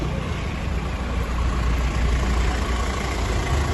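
A Hyundai Creta SX automatic idles with a steady, even engine rumble and a broad mechanical hum, heard up close and continuous throughout with no talking.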